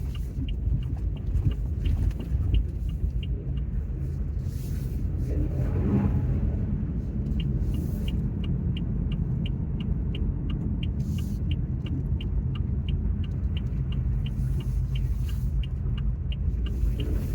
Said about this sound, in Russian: Стоят зимние шипованные колеса, от этого, конечно, вот гул слышен,